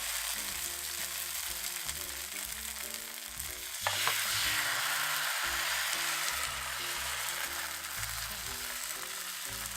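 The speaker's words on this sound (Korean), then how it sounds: "반죽을 부어줄게요." Banh xeo batter poured into a hot pan gives a loud, dense frying sizzle that swells sharply as the batter hits, then holds as a steady, close crackle with low clatter beneath.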